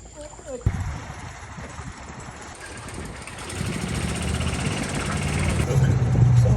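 An automatic hose system sprays water across a track in hot weather: a broad hiss of spraying water that starts abruptly and grows louder and steadier, with people talking over it.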